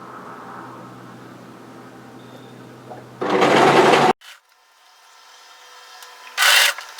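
A sewing machine stitches a seam on a wrap-front bodysuit in two short, loud bursts of rapid mechanical whirring, separated by quiet handling of fabric.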